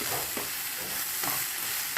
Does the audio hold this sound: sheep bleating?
no